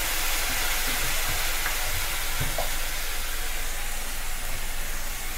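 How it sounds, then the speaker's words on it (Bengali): A little water hits raw banana kofta curry frying in a pan, giving a continuous close hiss and sizzle that holds evenly throughout, with no speech. "এবার সামান্য একটু জল দেব, আর এটাকে কষতে হবে।"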